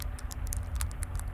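Rain patters at night in a steady stream of light, irregular ticks and taps over a low rumble, faint and continuous.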